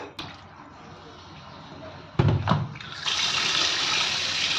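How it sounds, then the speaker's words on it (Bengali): Dirty water from washing fish is poured out in a kitchen, a sudden splashing rush in the middle followed by a steady running-water hiss, with no talk during the pour. "প্রথম নোংরা জলটা ফেলে দিল"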